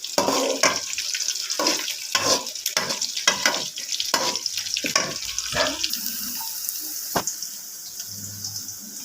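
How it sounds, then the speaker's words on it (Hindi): Onions frying in a pan until golden, a soft continuous sizzle with stirring and scraping, broken by bursts of clattering and some water-like splashing. "प्याज को अच्छी तरीके से गोल्डन करेंगे"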